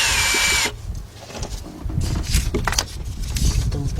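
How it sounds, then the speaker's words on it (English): A cordless impact gun with a 10mm deep 1/4-inch drive socket on a long extension works on the starter bolts of a 2003 Nissan Altima, giving a loud buzzing burst at the start, then quieter clanks and handling noise. "I got my 10mm deep 1/4-inch drive, and I got my 2-foot 3/8 1/4-inch drive extension on my cordless gun."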